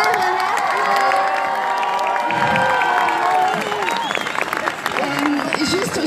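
A large crowd at a protest against Islamophobia on Place de la Nation in France claps, cheers and whoops continuously, with shouts and whistles rising above the roar and voices mixed throughout.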